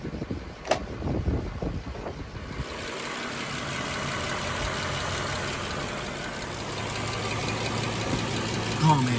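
A Jeep JK engine idles with a tick under the hood, a steady close mechanical drone with a faint repeating tap, after a few knocks and clunks at the start.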